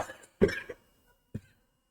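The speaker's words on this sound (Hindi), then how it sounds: "तो फिर ये खांसी चालू हो जा रही है" A man coughs during a Hindi-language geometry lesson: a hard burst, a shorter follow-up, then one more cough after a pause, close and fairly loud, with no talk around it.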